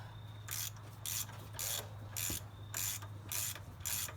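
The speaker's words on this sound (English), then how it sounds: "here I am removing random bolts, trying to get this power steering pump off" Ratchet clicking in short rhythmic bursts, about eight strokes, while loosening bolts on a Mazda Miata power steering pump during engine removal, close and alone over a low hum.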